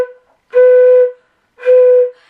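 Flute played with single tonguing and an overly large, airy aperture: two separate held notes at the same pitch, each about half a second long, breathy and close, with silence between them.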